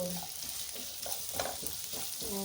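Poppy seeds roasting in a pan on a low flame for mushroom curry: a steady soft sizzle with scraping stir strokes throughout, close and moderately loud, with no talking.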